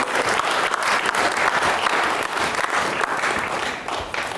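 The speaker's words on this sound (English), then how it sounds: "Can I get a round of applause for the volunteers?" A crowd at a Great War exhibition claps for volunteers after a bayonet drill demonstration, with a steady, loud burst of applause that holds evenly for several seconds without talk.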